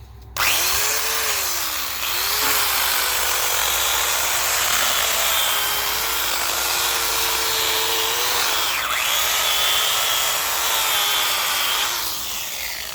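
An electric chainsaw, a repaired dump find, cuts through wood in a steady, loud, close buzz with pitch dips as the chain bites, running continuously for most of the stretch.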